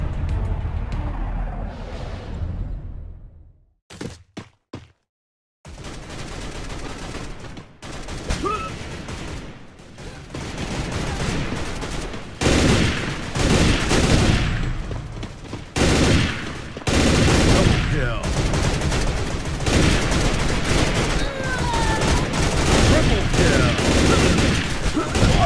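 Gunfire during shooting practice in the FPS mobile game Garena Breakout, dense bursts of rapid shots and booming reports filling most of the stretch after a short quiet break, loud and close.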